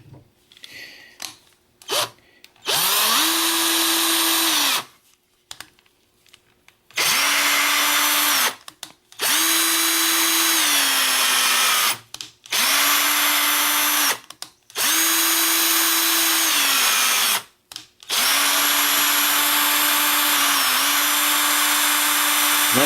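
Power drill boring holes in metal side plates for a lathe Z-axis project, repeated bursts of steady high-pitched whine of a few seconds each, separated by short pauses, close and loud.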